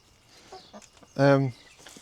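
A chicken gives one short, loud cluck up close, preceded by a couple of faint soft clucks, with a quiet farmyard in the background.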